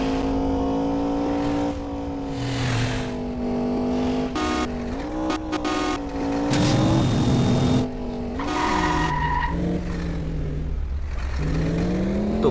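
Video-game car speeding along with nitro boost in Indian Theft Auto, a loud continuous engine drone rising and shifting in pitch with brief whooshing bursts, no talk.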